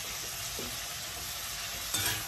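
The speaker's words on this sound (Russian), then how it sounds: "И обжариваем мяско." Finely cut fillet meat frying in a hot pan for a Korean dish with garlic chives, a steady sizzle broken by a few scraping stirs, with one louder stir near the end; no voices.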